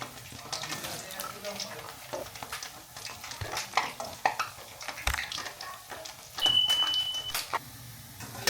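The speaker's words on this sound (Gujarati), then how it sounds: "તો ધીરે ધીરે મિક્સ કરી દઈએ" Batter for bitter gourd (karela) bhajiya fritters being mixed slowly by hand, giving continuous soft wet squelching and stirring over a faint background, with a brief beep partway through.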